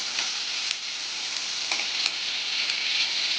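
Mushrooms sizzling steadily in a hot pan for mushroom pepper dry, a continuous bright frying hiss with faint stirring clicks, close and fairly loud, no voices.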